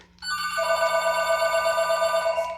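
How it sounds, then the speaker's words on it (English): A telephone rings steadily and loudly indoors while someone works with creamy art pigment, its bell tone unbroken for about two seconds with no talking over it. "Apologize for the phone, but"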